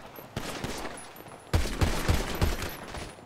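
Gunfire in a GTA roleplay game: a few sparse shots, then a tight rapid burst of several close, loud reports in quick succession, with no talk over them.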